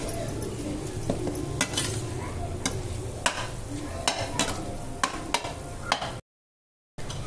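A spoon stirs chilli powder, coriander powder and garam masala through a tomato gravy in a pan, with repeated sharp metal clinks over a low sizzle, a brief dropout of silence near the end and no voices.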